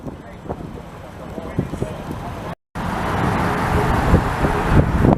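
A 1959 Pontiac Parisienne Sport Coupe engine rumbles steadily up close, its low growl briefly cutting out before returning louder and fuller.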